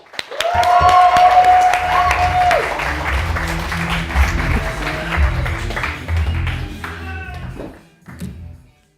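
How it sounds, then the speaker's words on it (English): Audience applauding a presenter at a Bettakultcha talk event: loud, dense clapping from a crowd swells at once and holds for about seven seconds before dropping away, with a brief tonal sound early on and a few scattered claps at the end. "can we please give a round of applause for Lizzie Blowey"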